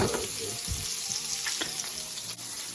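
Hamburger slider patties sizzle and fry steadily on a hot cooking surface as they start cooking, a close, continuous crackle with a few soft scraping touches.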